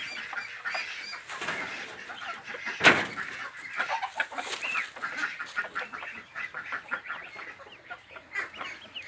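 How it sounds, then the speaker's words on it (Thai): Ducks chatter and quack in a nursery pen, a dense, fairly faint flock noise with many short overlapping calls and one sharper burst near the start, with no talking. "เป็นคอกเป็ดคอกอนุบาลเป็ด"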